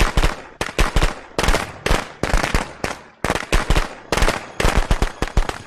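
Fireworks going off indoors in a house, a rapid string of loud, sharp cracking bursts in uneven clusters that continue with only brief gaps, close and reverberant.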